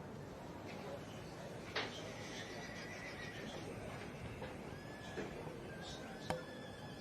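A pony whinnies in an outdoor show ring, with a couple of short neighs over a background of commentary and crowd murmur heard at a distance.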